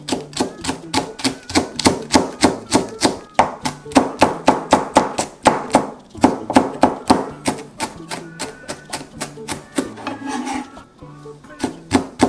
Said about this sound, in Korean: 또 송송 송송 다져줄게요